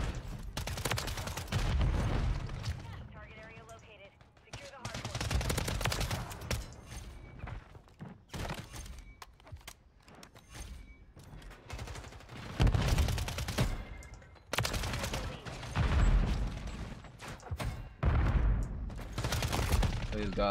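WSP-9 submachine gun firing in Call of Duty: Modern Warfare 3 season 1 multiplayer: loud, rapid automatic bursts, repeated again and again with short gaps, mixed with game thuds and mechanical clatter.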